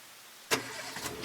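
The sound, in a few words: car engine starting and revving, sound effect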